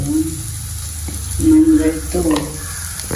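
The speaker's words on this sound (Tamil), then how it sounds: "இப்போ நாங்கள் வதக்கணும் நல்லபடி வதக்கணும்" Food with turmeric sizzles and fries in a pan while being stirred, a steady close crackle with louder bursts as it is turned, and voices talk over it.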